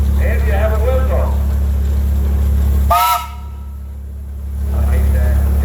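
A 1906 16 horsepower Reed steam engine at a steam and tractor show gives a short, loud whistle blast over a constant low engine drone, with people talking before and after.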